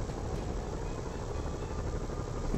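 A helicopter in the Spider-Man PS4 video game whirs as a steady, dense rotor and engine drone, constant and fairly loud throughout, with no speech over it.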